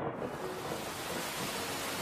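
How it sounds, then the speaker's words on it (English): Heavy wet-season rain in Cebu pours down in a steady dense roar, with a low rumble of thunder blended underneath for the whole brief stretch. "Cebu experiences heavy rain during wet seasons."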